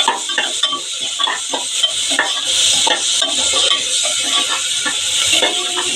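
Onions fry in a pan with mint, coriander, green chillies and crushed ginger and garlic added, giving a close, steady sizzle broken by repeated scraping clinks of a spoon stirring against the pan.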